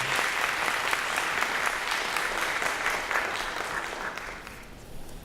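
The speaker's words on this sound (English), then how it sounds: "Let's give Annabelle a round of applause in her absence" Sustained audience applause at a high school senior awards ceremony, dense and even clapping from a large crowd that eases slightly toward the end.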